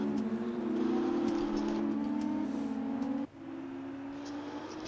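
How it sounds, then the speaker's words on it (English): F2 racing car exhaust in a racing video game at Bahrain, a sustained buzzing engine drone that holds steady, drops abruptly for a moment and resumes, with a faint sharp pop at the very end. "It's very nice listening to the exhaust of these cars."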